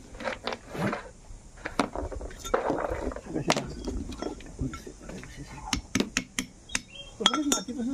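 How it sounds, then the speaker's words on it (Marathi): Roasted dry cashew seeds are cracked open one after another, giving sharp irregular cracks and knocks, close and crisp, with brief scraping and handling noise in between. "आता फटाफट बिया फोडून घेऊया."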